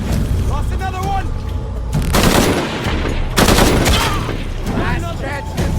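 Video game gunfire in Shadow of the Tomb Raider: loud bursts of automatic fire and sharp shots crackle in repeated clusters, with heavier volleys near the middle and end, as voices call out between them.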